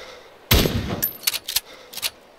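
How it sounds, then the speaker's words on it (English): Several sharp gunshots crack out in DayZ Standalone, one loud blast followed by a scattered burst of quicker shots, fairly close. "Hearing gunshots."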